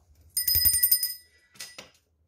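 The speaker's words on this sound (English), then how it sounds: "I have my bell," A small hand bell, kept in a tarot reading room for cleansing the space, rings in a quick shaken run of bright metallic strikes, then sounds twice more after a pause, close and clear with no talk.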